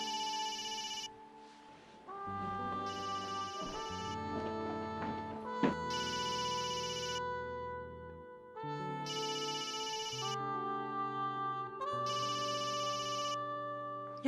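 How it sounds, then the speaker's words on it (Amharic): A telephone rings in a repeating electronic ringtone, bursts of a bright melodic pattern recurring roughly every two seconds, clear and alone for the whole stretch. "የውጭ ስልክ ነው መሰለኝ።"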